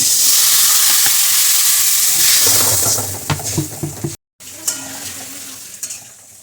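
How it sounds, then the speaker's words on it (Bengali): Water is poured into potatoes and taro frying in a pan for a hilsa fish curry, setting off a loud, steady hissing sizzle that settles into bubbling with clinks of stirring and a brief cut. "এই আলু কচুতে জল দিয়ে দিলাম"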